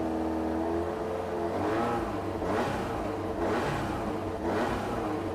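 A supercharged car driven in the Gran Turismo racing game revs up repeatedly, its engine note rising and falling in loud, rhythmic surges as it accelerates through the gears.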